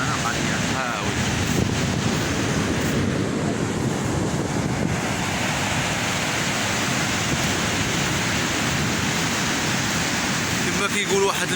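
Sea waves at a beach in December roll in under heavy wind buffeting the microphone, giving a constant roaring surf wash with no distinct breaks.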